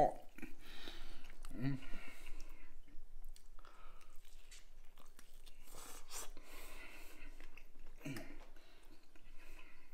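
Someone bites into and chews smoked beef short ribs cooked low and slow on a smoker, with close, wet chewing and biting sounds repeating throughout, mixed with soft murmured voices.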